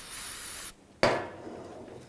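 Brake parts cleaner sprays onto caliper pins from a 2010-2017 Chevrolet Equinox rear brake, a loud steady hiss that cuts off, then a sharp sudden burst of spray that fades down.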